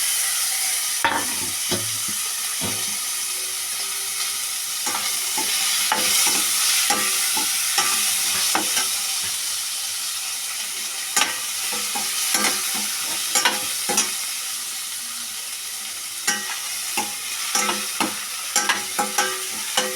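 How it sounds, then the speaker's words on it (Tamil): Onions and tomatoes sauté in oil with mustard seeds, fenugreek, urad dal, asafoetida and curry leaves, giving a continuous sizzle with sharp spoon-scraping stirs that come in clusters, close and fairly loud. "இப்போ கடுகு, வெந்தயம், கடுகு, உளுத்தம்பருப்பு, வெந்தயம், காயம், வெங்காயம், தக்காளி இது எல்லாத்தையும் போட்டு வதக்குறோம்."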